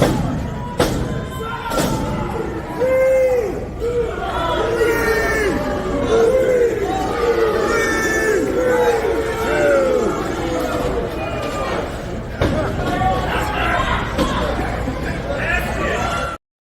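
A wrestling-match crowd roaring and shouting in a large arena, a steady dense wall of cheers and chants with occasional thuds, loud throughout before cutting off abruptly at the end.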